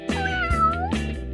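A cat meows up close, one drawn-out, wavering meow filling most of the moment, with soft thumps or movement around it.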